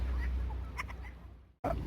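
Black Kadaknath chickens cluck and murmur softly in a poultry farm over a low background hum, with a few brief calls and a short break near the end.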